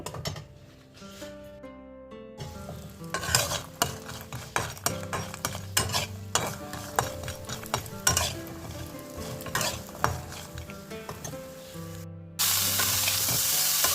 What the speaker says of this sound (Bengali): এখানে ফুলকপিটা ভেজে নেব